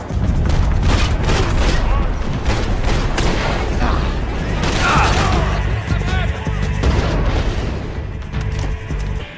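Rapid gunfire in a video game as a player shoots the remaining employees in a warehouse woodshop, loud and sustained with dense bursts, booming impacts and crashing debris throughout.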